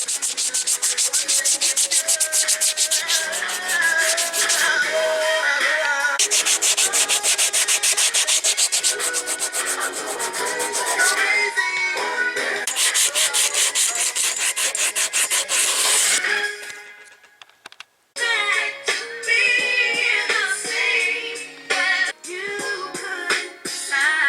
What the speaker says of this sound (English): Now I'm finna start hand sanding and getting it smooth enough to paint